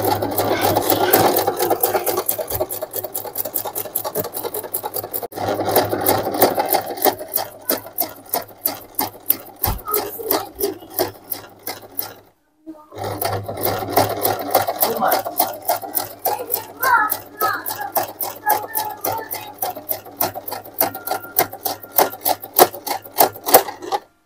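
A Singer SM024 domestic sewing machine runs a double embroidery seam, its needle hammering in a fast steady rhythm, close and loud, with one short pause before stitching resumes at the same pace.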